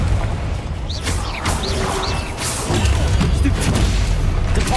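Confringo blasting spell from the video game Hogwarts Legacy, a loud booming burst that rolls into crackling debris and rumble, set within a continuous clamor of in-game combat noise.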